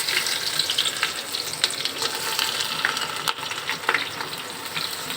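Chopped onions and a bay leaf fry in oil for mutton bhuna, giving a dense, even hiss of sizzling that runs unbroken and fairly loud, with faint stirring scrapes.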